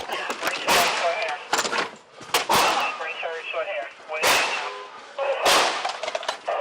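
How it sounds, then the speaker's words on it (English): Repeated sharp gunshots ring out during a police chase as the driver flees on foot down an alley, several loud cracks in irregular bursts with echoing tails between them. "More shots can be clearly heard."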